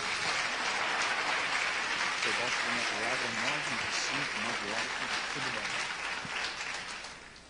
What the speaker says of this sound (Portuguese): Dá um aplauso a Deus.